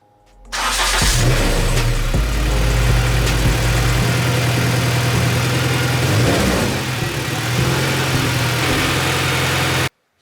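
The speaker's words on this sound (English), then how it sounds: "Okay, the car started up, no issues." A K-swapped Toyota FR-S running E85 fuel cranks and catches, then settles into a steady, loud idle close by with slight fluctuations.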